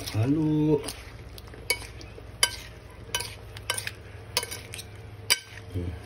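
A utensil stirs Bisaya-style kinilaw in vinegar, giving scattered light clinks and taps against the bowl in an irregular rhythm, with a brief voice at the very start.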